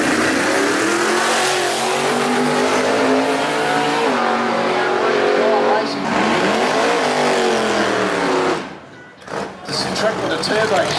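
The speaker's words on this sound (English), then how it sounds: "Turbo, you see, you're trying to get the boost up." Turbocharged drag racing car at a strip event revving hard and accelerating, a loud sustained engine roar with climbing and falling pitch, then a sudden dropout and blips, with a commentator talking over it.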